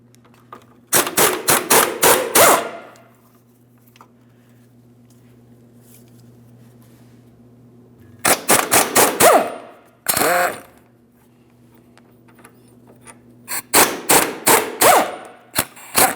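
Mechanic loosening 18mm control arm mounting bolts on a 2005-2010 Chrysler 300: three loud, close bursts of rapid rattling hammering separated by pauses, over a steady low hum.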